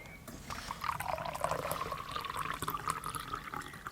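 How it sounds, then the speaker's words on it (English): Pale green tea trickles steadily into a cup, a soft continuous pour with a gentle bubbling tone, close and quiet, lasting a few seconds. "so I poured my pale green tea"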